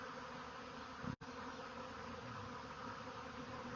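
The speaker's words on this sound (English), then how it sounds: "Tens of thousands of honeybees have swarmed from their" A swarm of tens of thousands of honeybees in motion, a dense, continuous buzzing drone that fills the air evenly, with a brief dropout partway through and no voices.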